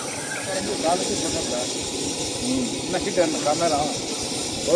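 Katla fish seasoned with chilli, pepper and rock salt sizzles on a hot stone, a continuous close hiss with faint crackles while people talk over it.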